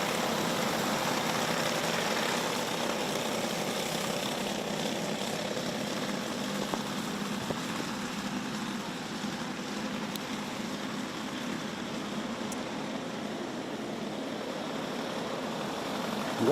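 Karts race around the Forks Karting Speedway under green flag, their engines making a steady, continuous drone that holds loud and unbroken throughout.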